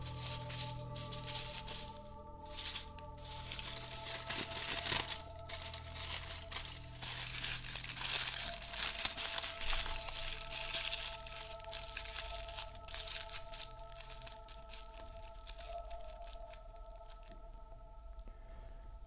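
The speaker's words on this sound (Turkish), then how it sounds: "Ardından bir folyo içerisine bırakıp kapatın." Aluminium foil is folded and crinkled around an item, giving sustained close crackling and rustling in uneven bursts with steady faint tonal hum beneath.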